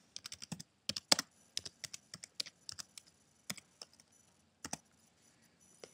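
Typing on a computer keyboard in a web browser on a Mac: a quiet, close run of irregular light key clicks in short bursts with brief pauses, no voices.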